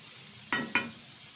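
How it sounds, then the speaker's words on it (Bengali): Cauliflower pieces frying in a wok get two quick stirring scrapes, close and fairly soft, over a low background hiss. "ঘন ঘন নেড়ে ছেড়ে কিন্তু প্রায় ভেজে নিয়েছি"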